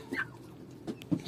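Farmyard chickens cluck in a few short, soft calls spaced across the moment, moderately distant with faint background noise and no talking.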